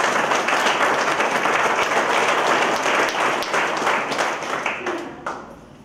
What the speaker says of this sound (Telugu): అదృష్టవంతులు అనుకునే వాళ్ళు ఒకసారి క్లాప్స్ కొట్టండి